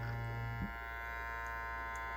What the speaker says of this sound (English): And then you take your vacuum sealer